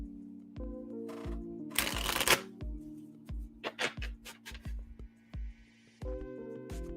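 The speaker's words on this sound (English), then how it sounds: "I'm going to shuffle." A deck of Disney Lorcana trading cards is shuffled by hand in several quick riffling bursts separated by brief pauses, close and clear over a low steady hum, with no talking.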